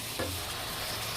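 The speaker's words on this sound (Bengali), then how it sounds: "ভালো মতো একটু কষিয়ে নিচ্ছি আপনার কলিজাটা" Liver sautéing in a pan, a continuous close sizzle with a brief scrape of stirring near the start.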